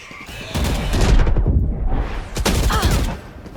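Rapid bursts of gunfire from a Brimstone match in a tactical shooter game, loud and dense volleys with a short lull in the middle, while a player talks excitedly over them.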